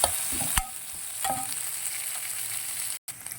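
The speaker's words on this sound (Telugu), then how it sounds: "కొంచెం ఆయిల్ వేసుకొని జీలకర్ర, ఆవాలు, ఎండుమిరపకాయలు, కొంచెం ఇంగువ వేసుకొని ఆనియన్స్ వేసుకొని కొంచెం పచ్చివాసన పోయిన తర్వాత ఫ్రై" Onions frying in oil with cumin, mustard seeds, dried red chillies and asafoetida for tomato rasam, a steady close sizzle punctuated by a few sharp spoon-on-pan clinks and stirring scrapes.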